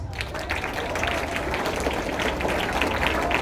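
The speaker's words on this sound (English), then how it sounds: "Can we have a round of applause?" An audience at a school value education programme for classes VIIIA and VIIIB claps in a dense, steady round of applause, continuous and fairly close with no talk over it.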